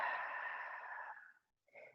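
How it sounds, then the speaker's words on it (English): A big breath out during yoga, slow and audible through the mouth and fading out, then a short silence and the start of a soft inhale. The breath is close and fairly quiet. "inhaling deeply through the nose. A big exhale."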